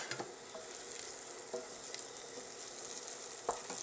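Italian seasonings and basil sizzle in a pan for marinara sauce, a soft, steady frying hiss with a few brief stirring clicks.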